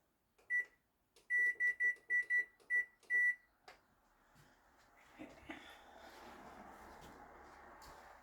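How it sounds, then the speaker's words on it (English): A kitchen timer beeping while being set for bread kneading: a single beep, then a quick run of sharp, loud electronic beeps, followed by softer rubbing and kneading noise. "we're now going to start our timer for 10 minutes"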